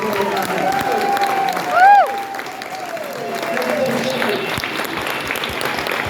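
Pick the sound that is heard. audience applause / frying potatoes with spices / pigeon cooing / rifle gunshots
audience applause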